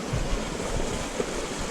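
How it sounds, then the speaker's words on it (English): A very small mountain creek flows down North Cheyenne Canyon, a steady broadband rush of water heard up close, with some wind noise mixed in. "a very small fountain creek that is coming down from the mountains up in North Cheyenne Canyon"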